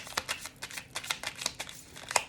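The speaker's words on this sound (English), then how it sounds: "if you're here and you don't mind my shuffling" Tarot cards being shuffled by hand, a run of quick papery riffles and flicks in an irregular rhythm, close and fairly soft, with no talking.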